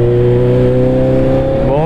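A motorcycle engine drones loudly and evenly at close range on a Delhi road in traffic, its pitch climbing slightly near the end.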